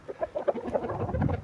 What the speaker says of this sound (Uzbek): Mana bu xo'rozimiz Zilzila